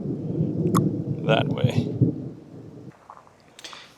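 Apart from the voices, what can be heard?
thunder offshore during a storm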